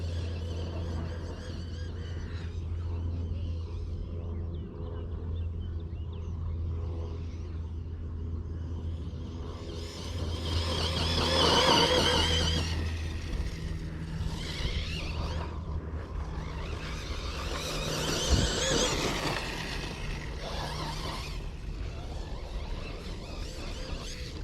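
A Team Corally Asuga 4S RC car driving over fairly smooth, not very rough ground, its motor whining and rising in two louder bursts over a steady low rumble, with no talk.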